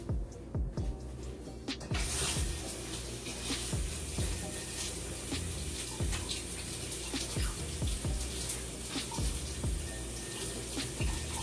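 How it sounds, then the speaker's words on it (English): Water runs steadily from a kitchen tap as hands are washed while cooking, a loud, close, continuous splashing flow that starts after a brief quieter moment and carries on alone. "let me wash my hands off"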